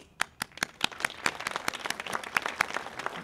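Audience applause at a Memorial Day ceremony, starting with a few distinct claps and building into fuller, overlapping clapping from a modest crowd, fairly close.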